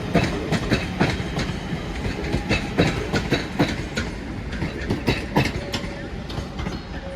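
A Northern passenger train to Manchester Piccadilly via Manchester Airport passes in Greater Manchester, its wheels giving a rhythmic clickety-clack over rail joints, fairly close and loud, with a faint squeal toward the end.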